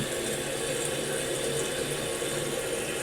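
A toilet tank refills through a newly replaced fill valve, giving a steady, close hiss of rushing water that stays even and continuous throughout.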